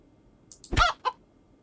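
Chickens in the survival video game Keplerth give a few short, close clucks in quick succession near the start of the clip, followed by quiet.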